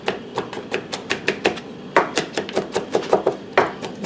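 A knife chops garlic on a cutting board in quick, sharp knocks, about a dozen close strokes in uneven bursts with brief pauses, loud and near with no talking.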